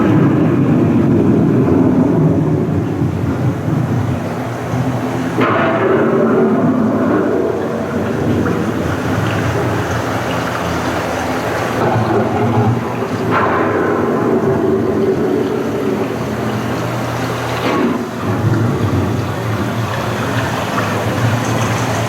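A staged thunderstorm on Epcot's Living with the Land boat ride rumbles with deep, rolling thunder and a broad wash of rain and wind, several sharp claps breaking the steady roar.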